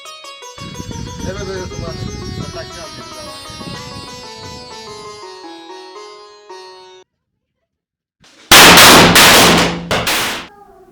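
Music plays, then stops abruptly; after a short silence, a rapid string of loud, sharp Holi firecracker bangs bursts out close by, several in quick succession.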